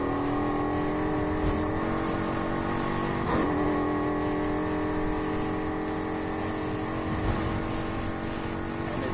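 A Cougar car racing in Need for Speed Heat, its engine holding a steady loud high-revving drone with small shifts in pitch, continuous and close, with no talk.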